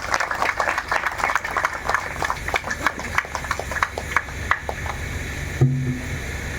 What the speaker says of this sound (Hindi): एक जोरदार तालियां के बीच